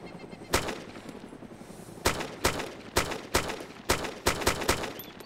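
Gunfire in the video game DayZ: sharp single shots ringing out at irregular intervals, then a quicker run of about eight cracks, moderately loud over a quiet background.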